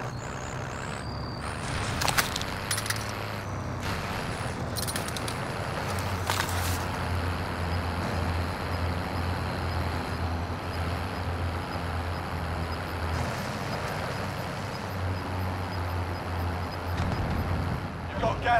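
A vehicle drives in the video game Call of Duty Modern Warfare, battle royale mode: a steady low engine drone with shifting pitch, wind rush and occasional clatter, continuous throughout, with a voice talking over it.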